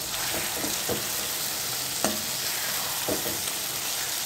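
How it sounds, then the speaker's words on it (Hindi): Chopped tomatoes fry in hot oil with a steady, close sizzle, punctuated by several scraping stirs of a spatula spaced a second or so apart. "अब इस तेल में जाएंगे इसमें कटे हुए चॉप्ड टमाटर।"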